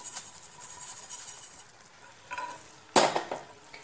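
Stirring a sesame sukkinunde sweet mixture in a pan gives soft scraping and rustling close by, with a sharper clank of a spoon against the pan near the end, and no voices.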